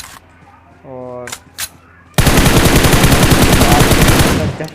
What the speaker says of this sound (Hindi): हमें एक कार 98 का शॉट और ग्रोजा की आवाज़ आती है